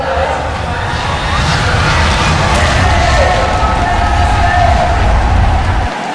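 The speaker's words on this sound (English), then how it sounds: "You can hear the crowd going nuts for Mineski right now." A large crowd roars and cheers for Mineski after the final of a Southeast Asian esports qualifier tournament, a broad, steady wall of noise with scattered shouts, with no pauses throughout.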